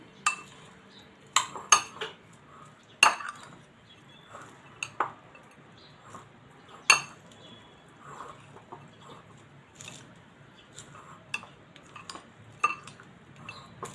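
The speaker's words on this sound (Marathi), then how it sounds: "थोडी कोथिंबीर घालते वरून मिक्स करूया कोथिंबीर घालून" Poha mixed with coriander in a pan gives sparse, quiet clinks and scrapes of a spoon against metal, scattered irregularly over a near-silent background, with no talk.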